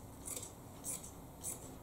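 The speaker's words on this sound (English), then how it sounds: "But for me, I just need to cut this open." Scissors snip through a t-shirt to cut it open, three crisp rhythmic cuts spaced about half a second apart, close and quiet.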